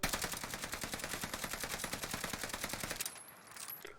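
An automatic weapon in the game Warzone fires a rapid, evenly spaced burst of close, loud shots for about three seconds, then stops abruptly and leaves a faint tail.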